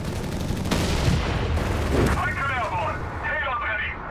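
Grenade explosions and gunfire in the real-time strategy game Company of Heroes 3, a dense rumbling barrage of blasts and shots at moderate loudness, with a voice speaking over the battle.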